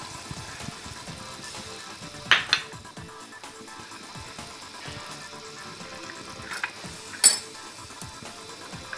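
Fish being added to hot cooking masala for a Konkani fish curry, with faint sizzling, soft stirring and a couple of sharp utensil clinks against the pan.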